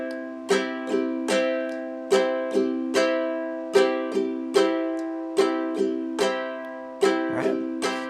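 Ukulele strummed in a beginner pattern with the second strum dropped, giving bright chord strokes in a steady, uneven rhythm with a gap where that stroke would fall, played alone and close.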